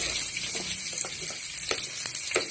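Onion frying in a pan with a steady hiss of sizzling oil, broken by faint clicks and taps of stirring, close and fairly quiet with no voices.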